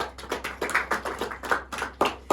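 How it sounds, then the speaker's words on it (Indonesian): Small classroom group clapping for a student after a presentation, a sparse uneven run of individual hand claps at moderate level, close by, with no talk over it. "beri tepuk tangan untuk Mbak Lisa."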